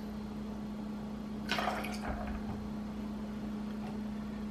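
White cranberry juice poured for a cocktail: one short splashing burst of liquid lasting under a second, over a steady low hum, with no talking.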